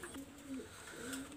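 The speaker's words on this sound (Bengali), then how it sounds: "দেখেন কবুতর দেখেন" Young Shalera pigeons, chicks with barely any feathers, give soft, steady coos close by, a low throaty murmur running without a break through the short moment.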